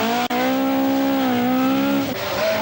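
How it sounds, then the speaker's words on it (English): Bertie Fisher's Ford Escort rally car at speed on a 1982 RAC Rally stage, a loud, close engine note held high and steady, dipping once as the gear shifts. "Bertie Fisher's Escort reels off the remaining distance"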